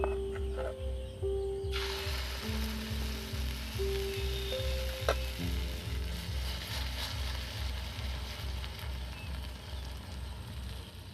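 Curd and flattened rice fritters frying in a little oil, a steady close sizzle with soft crackles, accompanied by a repetitive mechanical ticking throughout.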